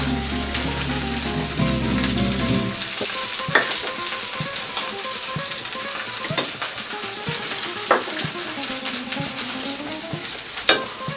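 Red peppers hitting a beef paella pan, a loud steady sizzle of frying with occasional stirring scrapes and clinks, close up, with no talking.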